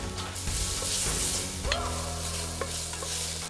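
Garlic and herbs sizzle in hot oil in a pan while being stirred, a close, bright frying hiss with scraping stir sounds and a few sharp clinks, steady and loud with no talking.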